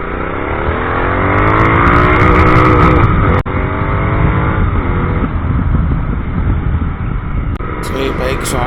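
A modified Royal Enfield Continental GT 650 revs loud and close, its engine note rising and falling in sweeping pitch glides. A sharp crack cuts in midway, and the engine keeps running throughout.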